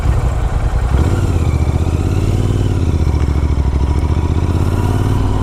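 A motorbike runs steadily and loudly up close, its engine drone continuous throughout with some clatter, no voices over it.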